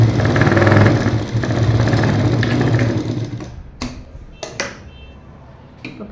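Sewing machine stitching a trouser piece for straight pants: a loud, close, steady mechanical whirr for about three seconds that slows and stops, followed by a few sharp clicks and handling knocks.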